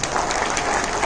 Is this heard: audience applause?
yes